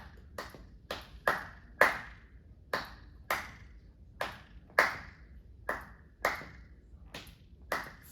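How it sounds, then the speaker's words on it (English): Sharp hand claps ring out in an uneven repeating rhythm alternating full and half claps, some paired and some single, close and clear with a short echo. "Then you have the half clap."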